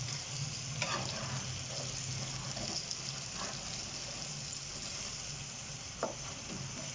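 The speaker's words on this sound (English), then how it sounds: "Continuously moving it and turning it for the even distribution of the spices." Spices sizzling and frying in a pot while being stirred and turned continuously, a steady crackling hiss with occasional scrapes and taps of the spoon against the pot, fairly quiet and close.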